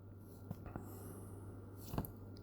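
Pen strokes scratch faintly as a math inequality is written by hand, a few short scribbling taps over a steady low hum with no talking.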